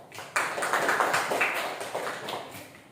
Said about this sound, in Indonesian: kita beri tepuk tangan ke kelompok 2